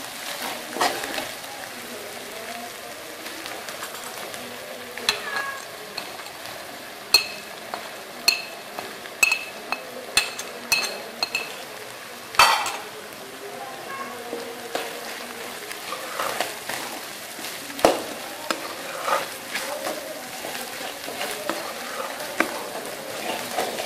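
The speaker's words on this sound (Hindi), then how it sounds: "अदरक लहसुन का पेस्ट अच्छे से भून चुका है" Soft sizzling of ginger garlic paste frying in a pan with intermittent scraping and clinks of a spoon stirring, steady and close, with no one talking.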